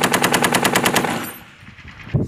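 Rapid machine-gun bursts during an infantry support-by-fire live fire exercise, loud and close, a steady run of shots for about a second before fading into outdoor ambience with a faint thump near the end.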